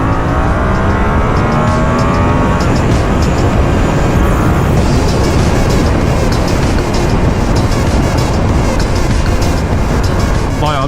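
A Yamaha R7 motorcycle accelerates hard through two gears from about 65, the engine note loud, close and sustained, climbing in pitch and shifting once partway through.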